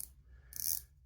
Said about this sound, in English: let's spin the bezel. Bezel action's good.